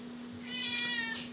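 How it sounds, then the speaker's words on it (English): A house cat gives a single drawn-out meow that rises and falls, close and clear against a quiet room with a faint steady hum. "there's my cat Scrambles."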